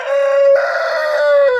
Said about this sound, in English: look at the noisy cockerel, as you look at the big cockerel